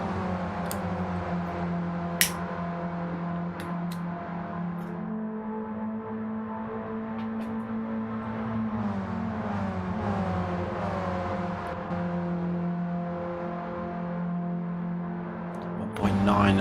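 Race cars run along the back straight at Willow Springs in a sim racing league event, a sustained engine drone slowly shifting in pitch, with commentators talking over it.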